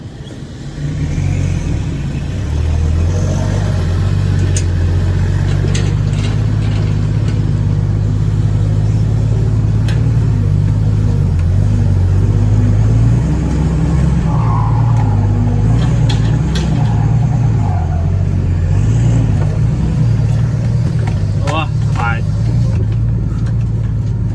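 A dump truck engine revs hard and steadily while climbing out of a pit, a deep continuous drone that stays loud throughout, with someone talking over it.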